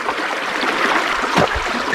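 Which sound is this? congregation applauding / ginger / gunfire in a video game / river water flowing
river water flowing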